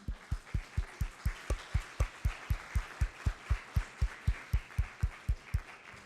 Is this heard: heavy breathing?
no